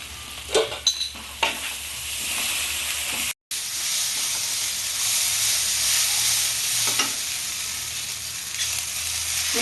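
Cumin paste goes into masala frying in oil for a Bengali rui fish kofta curry, producing a steady hissing sizzle with a few early spoon scrapes, a brief dropout, then an even frying hiss.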